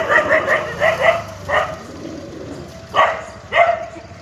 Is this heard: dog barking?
yes